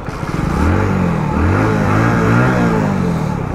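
A 2023 Hero HF Deluxe BS6 commuter motorcycle runs close by, its small single-cylinder engine throbbing and rising in pitch as it revs and pulls away.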